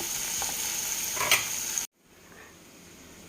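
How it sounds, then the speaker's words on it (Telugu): Large onions sizzle and fry in two spoons of oil in a pan while bitter gourd fry is being cooked; a steady close hiss runs for about two seconds, then cuts off abruptly to near quiet. "రెండు స్పూన్లు ఆయిల్ వేసుకొని ఉల్లిపాయ కట్ చేసుకున్నాం కదా పెద్ద ఉల్లిపాయలు అవి వేసుకోవాలి"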